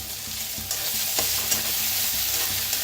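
Crushed ginger, garlic and green chili fry with coriander and onion in hot oil in a pan, giving a steady, close sizzle broken by a few soft stirring scrapes.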